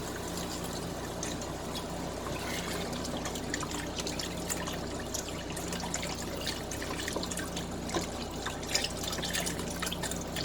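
Chicken broth, about four cups, poured steadily into a soup pot for cheesy broccoli soup, a continuous close liquid splash and trickle running unbroken for several seconds.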